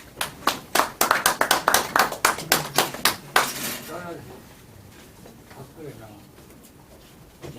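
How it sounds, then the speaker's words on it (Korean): Audience applause welcoming a speaker to the front at a Korean association lecture gathering, a burst of sharp, rapid hand claps that fades out after a few seconds, leaving quiet room noise. "나오실 때 박수로 맞이해 주시기 바랍니다."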